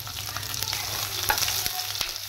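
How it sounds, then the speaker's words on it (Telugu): Onion hits hot oil in a pan for paneer butter masala, giving a loud, close, continuous sizzle with occasional clanks of a utensil stirring, and no voices. "అండ్ దెన్ ఆయిల్ వేడైపోయింది కదా, ఇప్పుడు ఇంకా ఆనియన్ వేద్దాం."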